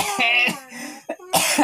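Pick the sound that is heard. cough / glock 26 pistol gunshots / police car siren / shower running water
cough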